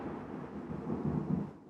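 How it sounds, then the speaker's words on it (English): Low, rolling thunder rumbling outside an apartment building, a steady broad roar that swells a little toward the end under light wind noise, with no talking. "Did you guys just hear that thunder?"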